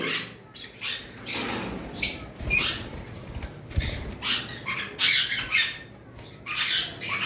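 Caged yellow-sided conures in a pet bird shop: repeated sharp, harsh squawks in irregular bursts, fairly close and moderately loud, with rustling and flapping between calls and no talk.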